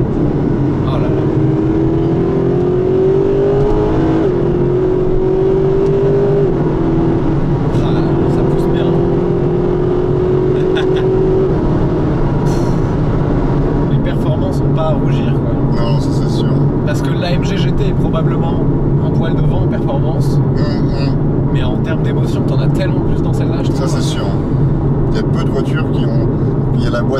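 The naturally aspirated V8 of a Mercedes SLS AMG revs steadily and loudly up toward its high limit, a continuous engine roar rising in pitch, with people talking over it inside the car.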